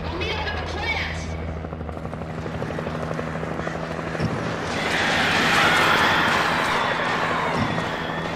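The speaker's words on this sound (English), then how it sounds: "you've fallen out of the chopper" Helicopter rotor chop from the video game Alan Wake, a steady low thumping whir that swells louder in the middle of the clip, mixed with game ambience.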